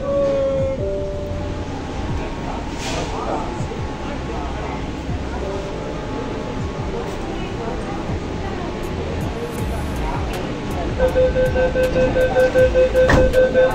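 Continuous rumble and rattle of the Kolkata underwater metro train in motion under the river, with a steady hum and faint clicking, and a tone near the end; voices murmur underneath.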